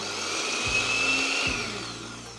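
A kitchen mixer grinder whirs loudly as it grinds dry ingredients for a Maharashtrian amti, in one steady high-pitched motor whine lasting a couple of seconds and slowly easing off at the end.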